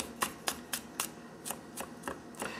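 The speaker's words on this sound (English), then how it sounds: "Dice it a little bit." Knife chopping mashed garlic on a cutting board: about ten sharp, evenly spaced taps in a steady rhythm, fairly close and moderately quiet, with no voices.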